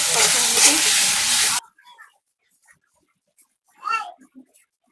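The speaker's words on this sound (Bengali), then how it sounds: "মশলাটা কষায় লেছি, তো চিংড়ি মাছগুলো দিয়ে দিব" Spice paste for a shrimp curry sizzling loudly in a pan for a moment, then cutting off to near quiet with faint clinks and a brief stir.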